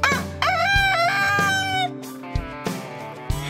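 Musical, warbling tones over a steady bass backing, with a rooster-like crowing call near the start; a bright, busy mix with no talking.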